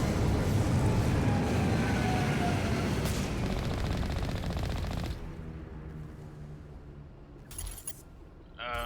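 Sustained rapid gunfire from the Mako vehicle in the video game Mass Effect, a loud dense burst that cuts off midway, followed by quieter game ambience and a short sharp blast near the end.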